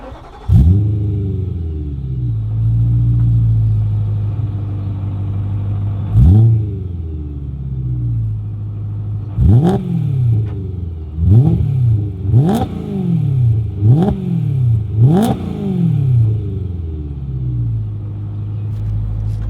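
A BMW E92 M3 track car built for the Nürburgring Nordschleife starts with a loud bark, settles into a deep idle, then gets a series of sharp throttle blips that rise and fall in quick succession, close and without talk.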